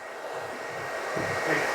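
A hair dryer blows steadily at close range on high heat while drying a man's haircut, a constant airy whir with slight shifts as it is shaken about.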